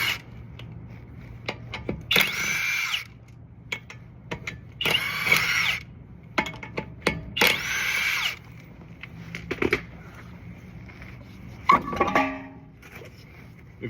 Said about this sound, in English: I'm gonna get this wheel off.